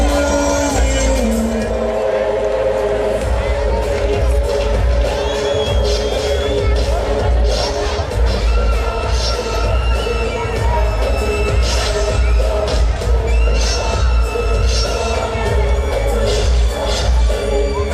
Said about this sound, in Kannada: Put your hands together, please, parents.